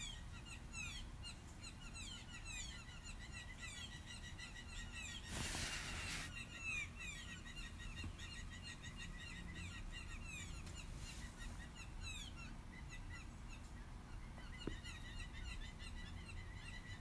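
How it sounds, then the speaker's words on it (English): Birds in a tree outside calling with faint, rapid high chirps and whistles scattered across the whole stretch, distant and quiet against a soft background hiss, with a brief noisy burst partway through. "Can you guys hear those birds?"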